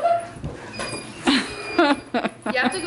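A small dog whimpers and yips in several short, high-pitched bursts, close by, with some voices in the background.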